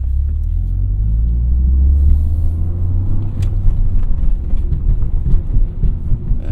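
A Toyota GR Corolla cruises on a freeway with traction control on, its engine giving a steady low rumble and road drone throughout, loud and close from inside the cabin.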